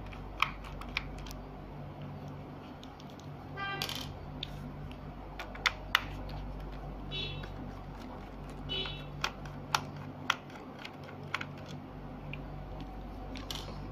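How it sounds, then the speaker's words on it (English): Small screws are backed out of the hard disk bay on a Dell Inspiron 1545 laptop, heard as faint, irregular close-up clicks and ticks of a screwdriver over a low steady hum, with no speech. "we have to remove these two screws we have to take this outside"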